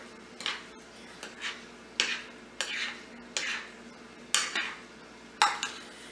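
Spoon strokes stir a pot of mushroom chicken and rice casserole, about eight distinct scraping sweeps at an even rhythm, fairly faint and close, with a soft low sizzle between strokes and no voices.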